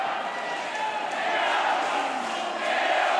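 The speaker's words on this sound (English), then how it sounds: "the crowd just trying to rouse Bunn" At a boxing match in Germany, a large arena crowd roars and murmurs continuously in the background while a commentator talks over it, the crowd noise swelling slightly toward the end.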